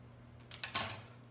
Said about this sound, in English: Take your scissors and cut at an angle from the edge